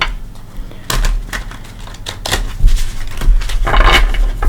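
Tarot cards from a Light Seers deck being shuffled by hand: repeated crisp riffles and slaps in bursts, close and fairly loud, with no talking.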